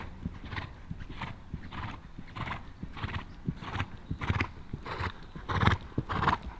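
Horses clip-clop with steady, rhythmic hoofbeats at a show-jumping seminar at Haras de Hus, each stride a muffled thud, with a horse neighing amid the moving hooves.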